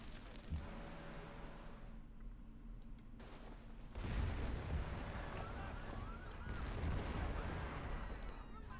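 Units open fire on troops in Civilization V, a quiet run of game gunfire and artillery over an ambient score, growing louder and denser about halfway through.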